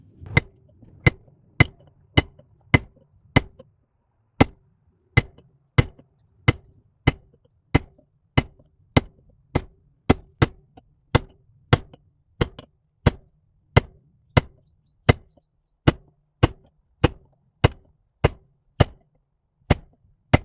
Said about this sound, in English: So I'm just going to go ahead and hit these welds with a cold chisel.